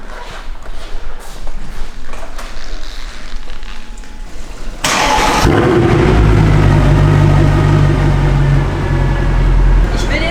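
A Mercedes-Benz C63 AMG 507 Edition with a naturally aspirated 6.3-litre V8 fires up halfway through after quiet background noise, then settles into a loud, deep, close idle rumble.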